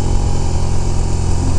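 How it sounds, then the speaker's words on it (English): A motorcycle engine brakes down a long, steep hill with the throttle closed, a loud, close, steady low drone with no revving. "I'm just letting the engine brake do all the hard work and"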